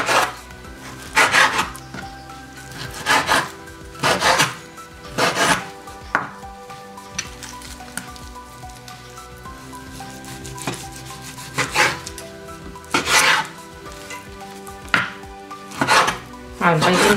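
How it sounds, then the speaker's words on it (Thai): Knife chopping food on a board in repeated bursts of sharp, close thuds and scrapes, with short pauses between rounds and no talking. "เราก็หั่นเป็นชิ้นๆที่เราจะใช้ในแต่ละครั้ง"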